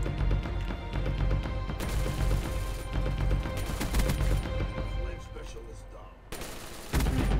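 Rapid-fire Galil assault rifle shooting in Black Ops 3, long dense continuous bursts with brief pauses, loud and close throughout with game effects layered underneath.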